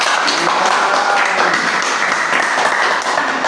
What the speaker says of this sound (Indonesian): Iya, beri tepuk tangan.